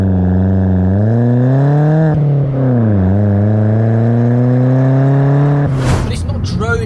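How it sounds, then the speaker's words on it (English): A Vauxhall Corsa's exhaust growls deeply as the engine revs up, dips and climbs again, then a rushing burst of noise cuts in at the end. "it's also got the rear end grunt from that exhaust"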